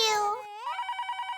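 A voice trails off, then a phone rings with a rapid warbling electronic trill, repeating in quick pulses.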